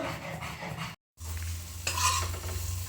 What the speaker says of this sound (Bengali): পনিরগুলো হালকা ভেজে নিলাম